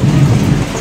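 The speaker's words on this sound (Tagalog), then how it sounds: "May kidlat-kidlat naman." A heavy low rumble of thunder rolls through a storm with lightning and steady rain, loud and continuous across a brief moment, with no voices.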